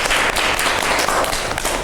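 Classroom applause during a microteaching lesson on letter folds, a steady wash of clapping hands filling the whole stretch at even loudness, close and dense with no voices over it.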